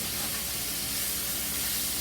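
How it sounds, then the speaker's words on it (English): Steaks sizzling in a hot pan while basted with butter and thyme, a steady loud hiss and crackle that runs continuously, close up with no talking. "I'm basting these steaks"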